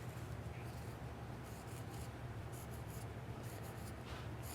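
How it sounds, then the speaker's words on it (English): A marker scratching across upholstery material while fitting interior trim in a 1959 Pontiac Catalina, a faint steady rubbing stroke under low background hum, close and quiet. "Take our marker, mark it over here as well."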